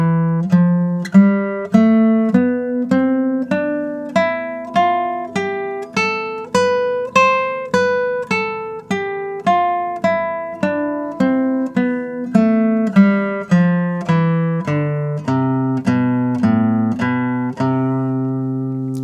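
Guitar plays a G form major scale from the CAGED system, about two dozen evenly spaced single notes rising then falling, clear and close with no talk.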